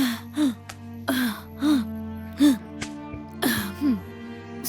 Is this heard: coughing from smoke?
yes